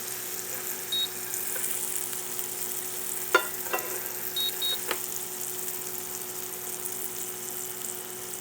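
Butter sizzles steadily in a Ninja Foodi NeverStick pan as a soft continuous hiss, with a few sharp clicks of a metal utensil partway through and no voices.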